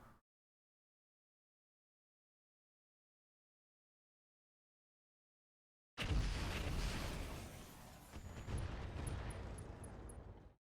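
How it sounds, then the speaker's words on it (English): An explosion in the video game RogueTech bursts in after about six seconds of silence: a loud, broadband blast with a rumbling, crackling tail that lasts several seconds before cutting off. "Explosion."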